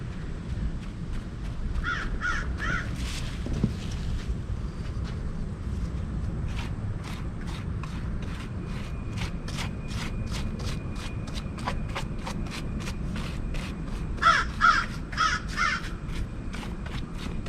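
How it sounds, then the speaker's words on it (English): A crow caws repeatedly outdoors, a series of harsh calls in bursts near the start and again near the end, moderately distant over a low steady background. "That crow. Good sound effects for our video."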